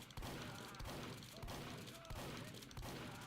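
Repeated shotgun blasts from the video game Team Fortress 2, roughly every 0.6 to 0.7 seconds, each a loud booming thump over continuous game noise and clatter.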